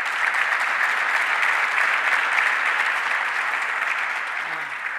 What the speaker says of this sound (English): So let's give a round of applause to Mayor Malik Evans.